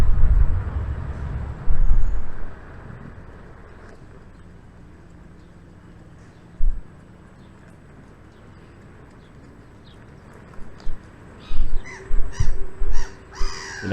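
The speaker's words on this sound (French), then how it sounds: "regardez, il y a un corbeau qui profite du soleil" Crow cawing by a lake in Neuchâtel, a run of loud, close harsh caws near the end after a few earlier bursts, over quiet outdoor ambience.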